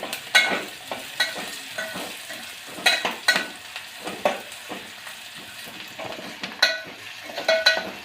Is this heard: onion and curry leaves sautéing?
yes